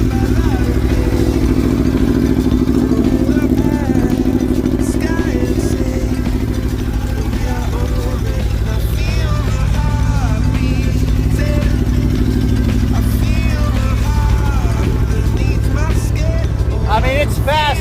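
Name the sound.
Aprilia Tuono V4 motorcycle engine starting and idling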